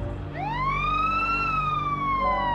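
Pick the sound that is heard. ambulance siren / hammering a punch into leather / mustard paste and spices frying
ambulance siren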